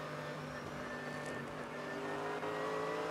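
Mercedes-Benz race car in traffic at a VLN endurance race on the Nürburgring, passing an Aston Martin Vantage; a steady, loud engine drone holds throughout, with a brief rising sweep near the middle.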